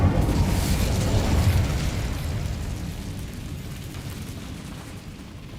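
Incendio fire spell cast in Hogwarts Legacy, a loud roaring burst of flame that starts at full force and slowly tapers into a sustained crackling rumble, with no talk over it.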